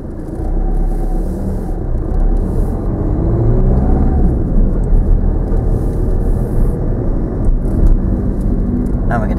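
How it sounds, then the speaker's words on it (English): A car engine runs with a steady rumble that swells as the vehicle pulls away during a driving lesson, loud and close throughout, with a voice talking over it. "start the car in your normal way, carry on as normal"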